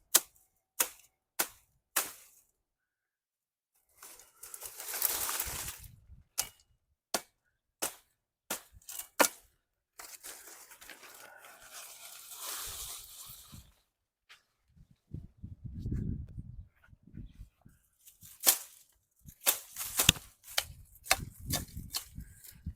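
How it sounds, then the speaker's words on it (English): An unsharpened sword chops small branches off a tree outdoors: sharp, isolated cracking strikes in quick bursts, with rustling of leaves and twigs between clusters of hits, close and fairly loud. "I'm just going to chop a few of these little branches down"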